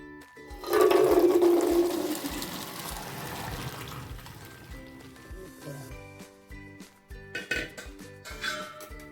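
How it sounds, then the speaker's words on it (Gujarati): Water from soaked peanuts drains through a mesh strainer, a loud pouring gush at first that fades into softer trickling and a few light clinks of the strainer. "આ પાણી બધું આપણે નિતારી લઈશું એક જાળીમાં"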